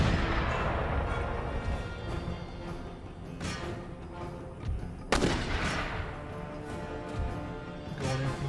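Howitzer artillery booms repeatedly across a battle in the Empire: Total War video game, heavy and echoing, with one sharp loud blast standing out amid a continuous rumble of cannon and musket fire.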